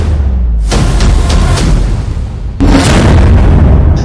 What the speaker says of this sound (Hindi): इजरायली सेना ने ईरान के सैन्य ठिकानों समेत कई इलाकों में बमबारी शुरू कर दी।